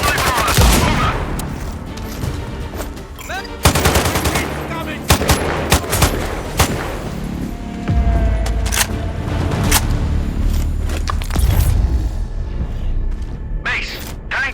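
Gunfire in the Sniper Ghost Warrior Contracts 2 video game, with loud repeated shots and bursts, weapon mechanism clatter and booming impacts spread across the whole stretch, with game dialogue intermittently underneath.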